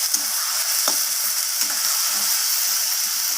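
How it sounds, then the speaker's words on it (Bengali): Cauliflower leaves fry with onion in a pan, giving a loud, even, steamy sizzle with soft scrapes and taps from stirring spread through it. "পাতাটাকে এইভাবে ভাজা করে নিতে হবে"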